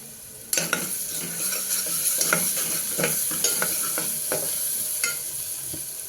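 Ginger garlic paste sizzles in hot oil over a low flame, a steady bright hiss broken by repeated clinks and scrapes of a spoon stirring the pan, close and alone.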